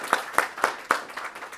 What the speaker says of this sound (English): give our panelists one more round of